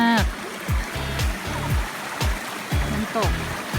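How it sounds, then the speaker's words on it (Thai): A steady wash of falling water from the waterfall at Khuha Sawan cave in Kanchanaburi, Thailand, runs throughout, with voices talking over it. "น้ำตก"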